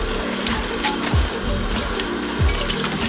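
Kitchen tap left running while dishes are rinsed by hand at a sink, a steady broadband water rush carrying on for the whole stretch, with a couple of brief low knocks from dishes along the way.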